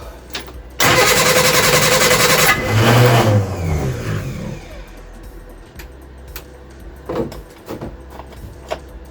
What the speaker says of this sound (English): Got oil pressure. Try a little bit of throttle.